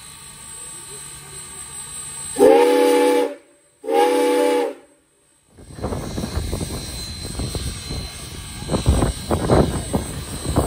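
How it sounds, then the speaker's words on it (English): Two loud, sustained blasts of the whistle of Soo Line 1003 steam locomotive in Wisconsin, each a couple of seconds long with a short gap, followed by a crowd chattering nearby. "There were even some people that got a chance to blow Soo Line 1003's whistle."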